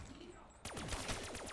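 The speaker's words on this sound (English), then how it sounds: "when I shoot a zombie, they explode into a bunch of fireworks" Rapid bursts of gunfire in a Call of Duty zombies match on Kino Der Toten, with zombies bursting into fireworks, break out after a quiet moment and crackle in a dense, close, loud string of shots.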